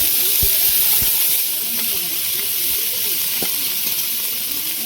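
Onion paste drops into hot oil in a wok, giving a loud, continuous close sizzling hiss with a few faint clinks.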